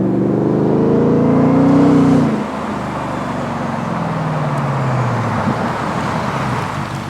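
A Ford Raptor R truck drives with a loud, steady engine roar, rising in pitch early before easing into a sustained lower drone with road noise.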